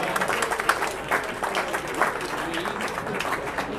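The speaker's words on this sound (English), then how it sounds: "Could we have a round of applause for the staff of Locust Hill?" A room of luncheon guests gives a round of applause for the Locust Hill staff at a holiday event, a steady, dense burst of clapping throughout, fairly close.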